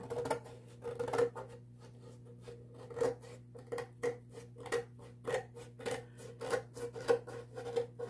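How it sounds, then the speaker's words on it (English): Scissors trimming the edges of a paper collage, a steady series of close, crisp snips and slicing cuts in an irregular rhythm over a low steady hum, with no talking. "Just take your scissors and cut along the edges."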